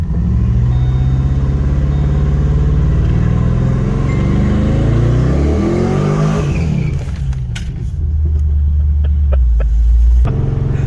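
A Chevrolet Corvette engine rumbles loudly and continuously as the car is maneuvered into a parking spot, its tone shifting partway through before settling back into a deep, close idle.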